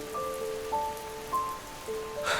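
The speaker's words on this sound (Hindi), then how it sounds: "ठंडी ठंडी बूंदें गिर रही थीं" Cool raindrops falling steadily on a street food stall selling chicken masala pav, an even hiss of rain with faint tonal sounds drifting over it.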